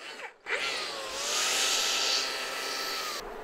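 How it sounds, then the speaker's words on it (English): Steady, close whir of a blower clearing the remaining bees from a Japanese honeybee hive box during a traditional honey harvest, running continuously for a few seconds after a brief pause. "Before removing the box from the hive, Mayu is making sure to remove any remaining bees with the blower."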